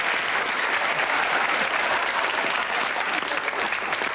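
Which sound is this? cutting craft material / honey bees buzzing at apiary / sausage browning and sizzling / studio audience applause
studio audience applause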